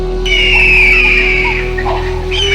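A person lets out a loud, sustained high-pitched scream lasting about a second, which then breaks into shorter cries over a steady background hum.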